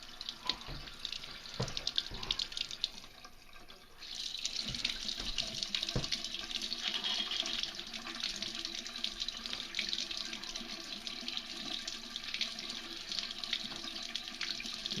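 Hot water pours steadily from a sink faucet, a continuous close splashing hiss that grows fuller partway through and runs on alone without speech.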